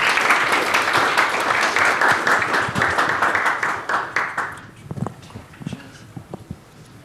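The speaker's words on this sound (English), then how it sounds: "Round of applause for Michael." An audience claps for a speaker at an effective altruism conference talk, dense applause that gradually thins and breaks into scattered individual claps and shuffling toward the end.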